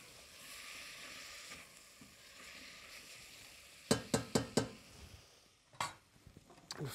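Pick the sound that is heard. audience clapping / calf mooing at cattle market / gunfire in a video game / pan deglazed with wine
pan deglazed with wine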